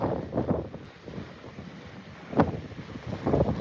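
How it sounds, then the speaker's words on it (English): Hurricane wind gusts from Hurricane Francine in Louisiana roar and buffet outdoors, surging loudly at the start, near the middle and again at the end, with rumbling noise in between and no talk. "I'm gonna be quiet so you can hear the wind."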